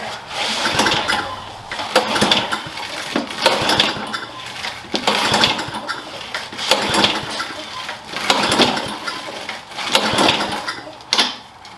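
Repeated pulls on a push lawn mower's recoil starter cord after priming, a series of about six loud rasping whirs spaced roughly every one to two seconds, with the engine failing to catch.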